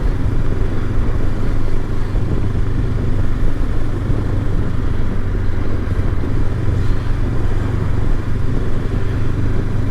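A Honda CB500X motorcycle with a tall windscreen and small top spoiler, heard while riding. A loud, steady engine drone blends with constant wind rush throughout, and nobody talks.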